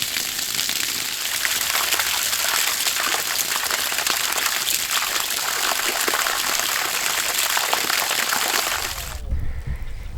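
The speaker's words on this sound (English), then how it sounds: "out of the ground here, we just got a big gushing leak" Water gushes loudly from a leaking buried garden pipe, a steady broadband rushing spray that runs unbroken and close for about nine seconds before cutting off abruptly, leaving a low rumble.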